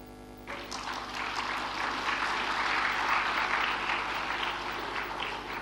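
Sustained applause from an audience, a steady wash of many hands clapping over a low electrical hum, with no voices.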